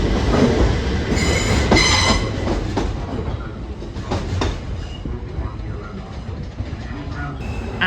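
A DLR train pulls into Limehouse station in London with loud rumbling, wheel clatter and brief metallic squeals, fading slightly as it slows while a person talks faintly nearby.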